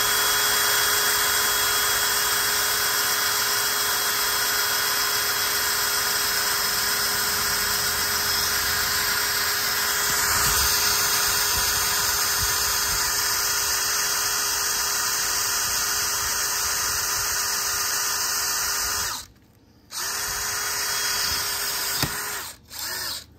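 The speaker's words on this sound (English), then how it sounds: "So I'm going to get a 1/8 inch drill bit, load that into the drill. And then we're going to drill that." An electric drill with a 1/8 inch bit bores through a motorcycle swing arm during a bolt-on extension install, a steady high whine running nearly continuously before stopping briefly near the end, with no talk.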